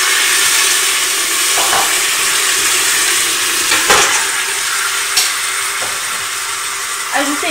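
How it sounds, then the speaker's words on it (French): Meat pieces browning in oil over medium heat in the pot of a couscoussier, a loud, close sizzle with intermittent stirring scrapes and clanks against the metal. "Dans la marmite du couscoussier, faire revenir sur feu moyen les morceaux de viande avec de l'huile"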